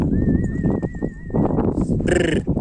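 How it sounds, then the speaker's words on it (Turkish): Hooves clatter rapidly over a steady whistling tone, then a horse gives a short, loud neigh near the end. "Eşekleri kovalamaya başladı at."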